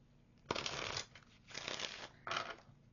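Tarot cards are shuffled by hand in a few close, papery riffling bursts separated by brief pauses, with no talking over them.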